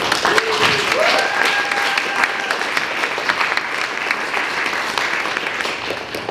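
Sustained applause at a youth climate action holiday party, a crowd clapping steadily for a curriculum team, with a brief whistle or cheer early on over the clapping.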